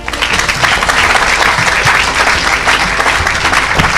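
A church congregation breaks into loud, continuous applause at a worship service, dense clapping filling the space throughout, with faint voices mixed in.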